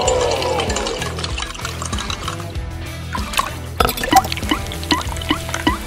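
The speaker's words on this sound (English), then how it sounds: "Water is being pumped out of the tank." Water splashes and trickles as a LEGO water pump draws it out of a tank, with liquid gurgling and dripping under background music and a few sharp plastic clicks.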